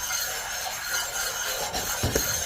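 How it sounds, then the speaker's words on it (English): A machined metal part is lightly sanded to take off burrs, giving a soft, close rubbing scrape in short passes that ends in a couple of firmer strokes. "I'm just removing the burrs."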